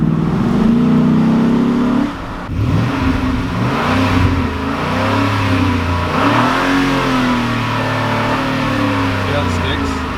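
A Ford Raptor with a Corsa aftermarket exhaust revs loudly up close, its deep engine note climbing and falling through several throttle sweeps before settling into a rumbling burble, while people talk over it.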